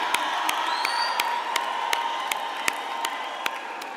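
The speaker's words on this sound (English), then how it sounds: "Let's give them a big round of applause and say a massive thank you." A graduation ceremony audience cheers and whoops in a sustained crowd roar, with sharp, scattered handclaps cutting through at a steady pace and no talk over it.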